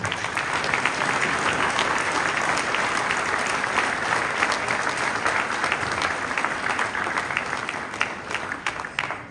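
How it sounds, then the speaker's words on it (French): A roomful of people gives a medal recipient continuous, loud applause throughout, thick and even, at a mayor's New Year's greetings ceremony in Castelnau d'Estrétefonds. "je crois qu'on peut vraiment l'applaudir de toutes vos forces"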